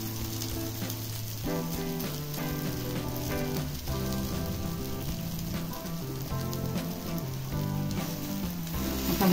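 Wheat-flour snack roasting in a hot pan, a steady close crackling sizzle with pops throughout, and background music underneath.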